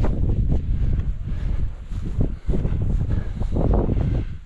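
Steady wind gusting across a microphone on a mountain hike in Snowdonia's Northern Rhinogs, a continuous roaring rush with no voices.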